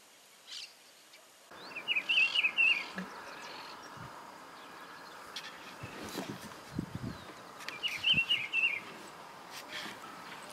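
A rufous-browed peppershrike sings outdoors in the countryside near Cayastá, Santa Fe, Argentina, giving two short bursts of bright warbled phrases a few seconds apart, moderately distant over quiet ambient background with faint insects.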